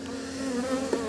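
Honeybees buzz steadily and close by at an open hive frame during a colony inspection, a continuous droning hum with a brief louder swell near the end.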